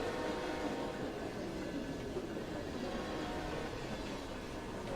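A train rolls past in the Roblox video game, a steady, dense rumble with rail clatter that holds at an even loudness throughout, close and continuous with no talking.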